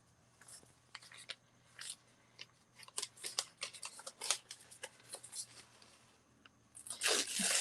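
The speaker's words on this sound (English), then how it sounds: "I don't like having like perfectly straight edges, so I'm just gonna kind of tear" Brown deli paper bearing a jelly plate print is torn by hand to rough the edges, giving a run of short papery rips and crinkles that swell into a louder, longer tear at the end.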